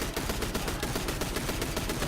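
Rapid automatic fire from a Breakneck auto rifle with 95 recoil direction during a Trials match in a video game: a loud, steady stream of about twenty sharp shots in two seconds, evenly spaced, with no voices.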